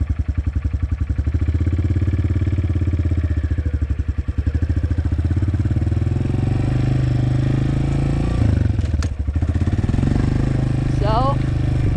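Motorcycle engine running steadily in first gear while a beginner rides it, the loud, continuous throbbing close and unbroken for the whole stretch, dipping briefly around the middle.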